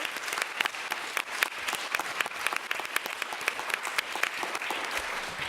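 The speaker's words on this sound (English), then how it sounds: "I really actually think we should give them a round of applause" A crowd claps steadily and continuously, a dense patter of applause at moderate distance with no talking over it.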